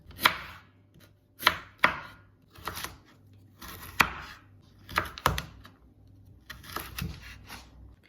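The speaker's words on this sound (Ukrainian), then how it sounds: "Тепер дрібним кубиком нарізаю моркву." A knife dices carrots quickly on a cutting board in short bursts of sharp, close taps, with brief pauses between runs.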